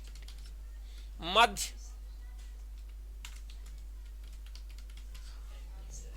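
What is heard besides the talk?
typing on computer keyboard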